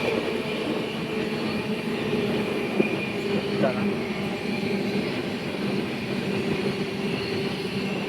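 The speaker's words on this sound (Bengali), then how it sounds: "সাঁতরাগাছি ক্রস করার পর আমাদের ট্রেন সেই লেভেলের টানছে, মানে মাথা খারাপ হয়ে যাচ্ছে, এত স্পিডে টানছে।" The 22897 Kandari Express, running from Howrah to Digha, roars along at high speed past Santragachi, heard from onboard as a loud, unbroken rumble of wheels and carriage noise.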